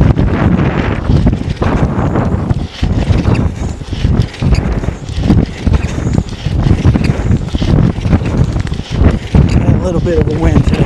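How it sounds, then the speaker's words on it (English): Wind buffets the microphone on a rowbike being ridden outdoors, producing loud rumbling gusts that pulse unevenly throughout. "Bit of a wind today."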